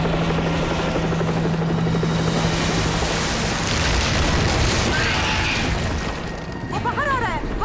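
A helicopter flying in a dubbed action movie, a loud continuous rotor rumble under music and effects, with people talking faintly over it.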